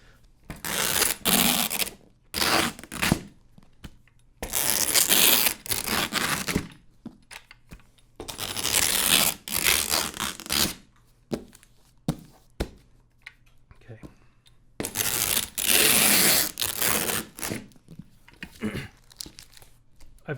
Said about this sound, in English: then you really lock it down with a bunch more tape